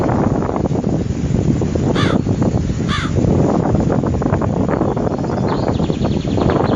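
A cartoon crow caws twice in sharp, clear calls over a loud, steady roar of stormy wind, with a faint third caw later.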